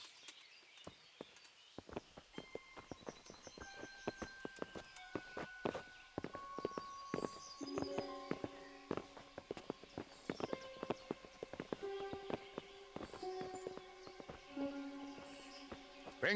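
Horse hooves clip-clop steadily in Kingdom Come: Deliverance, a run of sharp, evenly paced knocks at moderate distance, with faint tonal game music alongside and no talking.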